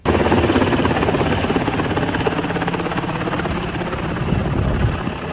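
A US military helicopter flying a Taliban flag passes overhead in Afghanistan, its loud, steady rotor thrum and engine whine filling the air continuously.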